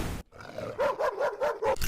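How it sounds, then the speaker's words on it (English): Chomper, a huge attack dog in a video game, barks in a quick run of about five sharp, close barks after a short pause, loud and clear with no talk over them. "It's Chomper, the huge attack dog on Lodge Lane."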